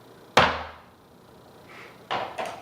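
Knife blade striking a whole coconut: one sharp, loud chop followed by two quicker hits, close and dry, with quiet gaps between them and no voices.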